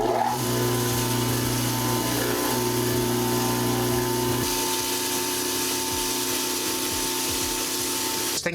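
A small tabletop tile saw motor hums steadily and fairly loud throughout, its tone shifting partway through, with no talking.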